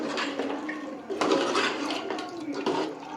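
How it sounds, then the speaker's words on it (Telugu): Water is poured into a pot of spicy mutton curry, a splashing, gurgling pour that swells midway and continues for a few seconds. "ఇప్పుడు మనం కర్రీకి ఎంత గ్రేవీ అనుకుంటున్నామో అంత వాటర్ యాడ్ చేసుకుందాం."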